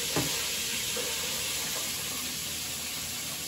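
Fresh-caught catfish pieces fry in a fryer, giving a continuous loud sizzling hiss of hot oil with a sharper crackle at the start, steady and close with no talking.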